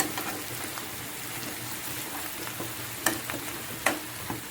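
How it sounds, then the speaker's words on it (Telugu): Chicken coated in masala frying in a pan and being stirred, a soft continuous sizzle with occasional scraping clicks from the spoon, fairly quiet with no talk. "చూడండి, ఇది బాగా ఫ్రై అయ్యే వరకు కలపాలి."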